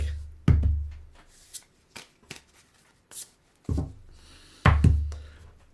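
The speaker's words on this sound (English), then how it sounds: "fun thing about a new deck is breaking it in, shuffling it." Crisp shuffling of a new, thick deck of cards in several bursts, each a sharp riffle ending in a soft slap, with short pauses between and no speech.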